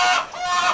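Chickens, including a flock of meat birds, clucking in a crowded coop and run, a steady close chorus of overlapping calls across the short moment.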